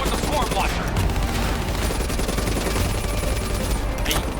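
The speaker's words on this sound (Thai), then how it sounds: "ต้องยิงหลายแม็กเลย" Dense, continuous automatic gunfire from Black Ops 3 co-op campaign, rapid bursts layered over one another with occasional explosions, loud and sustained throughout.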